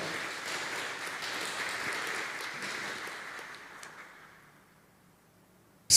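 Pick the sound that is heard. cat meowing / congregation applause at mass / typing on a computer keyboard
congregation applause at mass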